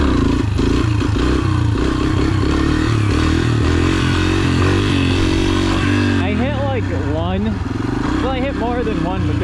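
Dirt bike ridden in second gear with the clutch slipped, its loud, continuous engine drone rising and falling with throttle, with a rider's voice cutting in near the end.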